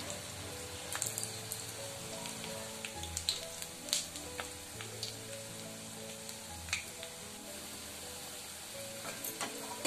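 Sheuli flower pakoras frying in hot oil over a medium flame, a steady soft sizzle with scattered crackles and pops, close and fairly quiet, with no one talking.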